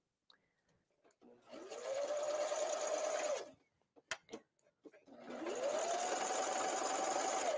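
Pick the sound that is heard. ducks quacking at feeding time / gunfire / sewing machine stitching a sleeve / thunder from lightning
sewing machine stitching a sleeve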